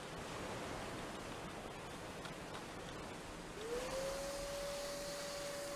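Steady broadband roar of a vacuum cleaner sucking up debris in Ship Graveyard Simulator, continuous and close, with a rising whine that settles into a sustained tone partway through.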